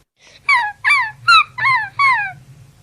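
A dog gives five close, clear whining howls in a steady rhythm, each one rising and then sliding down in pitch, over a low background hum.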